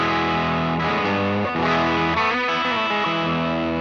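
An electric guitar played through a Paul Cochrane Timmy V3 15th Anniversary transparent gain pedal rings out loud and close with driven, sustained chords that shift every second or so, without any voice.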